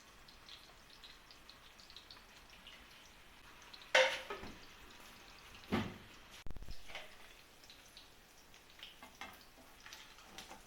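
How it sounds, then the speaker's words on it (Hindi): Chicken kebab patties fry in a pan with a quiet, steady sizzle, broken by a few soft clinks and scrapes of a utensil. "कबाब की एक साइड फ्राई हो गई है"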